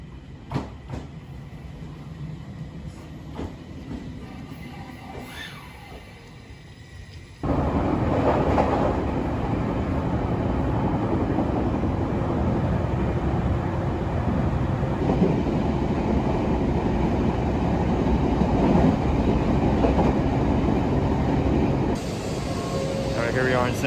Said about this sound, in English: getting on the famous Shinkansen, Hayabusa. This is a 320 km/h train